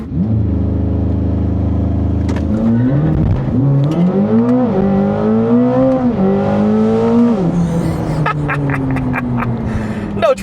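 A Corvette ZR1, rear-wheel drive, launching on an unprepped surface with wheelspin: a loud engine holds a steady rumble, then revs rise and fall in surging waves as the tires break loose and squeal, ending in a fading roar.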